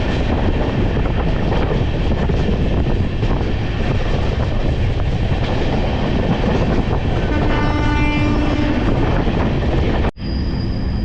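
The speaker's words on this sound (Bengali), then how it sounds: "এই দুর্গাপুর ছেড়ে বেরিয়ে গেল আমাদের ট্রেন" Benaras Sealdah Amrit Bharat Express (22588) runs after leaving Durgapur, a loud, steady roar of wheels and wind rushing past the carriage that fills the whole stretch, with a brief tonal whine near the end before a sudden cut.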